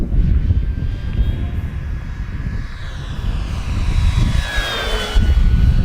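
An FMS V8 P-51 Mustang RedTail radio-controlled model airplane flies past, its electric motor whine rising in pitch and then sweeping down as it passes, loud and steady over wind noise.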